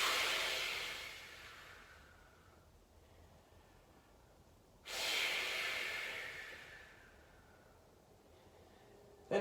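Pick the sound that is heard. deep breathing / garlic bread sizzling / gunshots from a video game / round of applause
deep breathing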